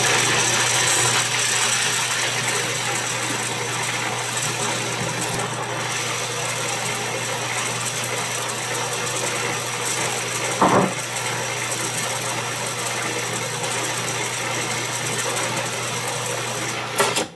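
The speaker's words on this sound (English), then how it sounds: "I'm going to turn it on and let it puree just for a couple minutes" Food processor pureeing a vegan, sugar-free, gluten-free vanilla cake batter sweetened with brown rice syrup, a steady continuous motor whir and churning that runs unbroken for many seconds with no talk.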